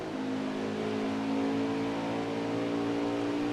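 Steady, loud drone of a NASCAR Cup Series race car engine at high revs from the NASCAR Heat 5 video game, an onboard lap at Phoenix, holding a constant pitch with no talk.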